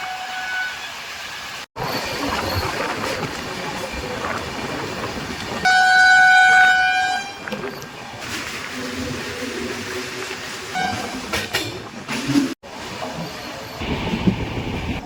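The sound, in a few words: Kandari Express train running at speed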